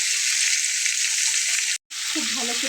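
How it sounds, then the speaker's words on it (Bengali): Drumstick, potato, brinjal and tomato curry fries and is stir-fried in a pan, giving a loud, steady close sizzle that cuts out for a moment, then resumes with stirring scrapes. "খুব ভালো করে 20 মিনিট থেকে 25 মিনিট পর্যন্ত এটাকে কষিয়ে ভাজা ভাজা করে নেব।"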